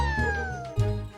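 A cat meows clearly and close by, a single drawn-out call with a second rise near the end, no voices over it.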